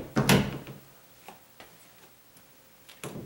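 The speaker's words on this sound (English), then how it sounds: "on this particular door, when I open and close it" A loose double door handle is worked as the door opens and closes, giving a sharp clunk followed by a string of light ticks and clicks, close and fairly quiet, ending in another solid thud.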